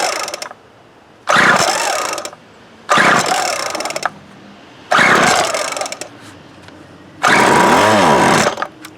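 A 1996 Craftsman string trimmer engine is pulled over four times in separate bursts. Each pull gives a loud rattling crank that sputters toward firing and then dies away.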